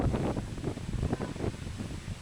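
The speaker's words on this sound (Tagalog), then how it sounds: "Alakas ng hangin, uulan na siguro nito." Strong wind blows outdoors, buffeting the microphone in heavy, continuous gusts with a loud rumbling roar and no break.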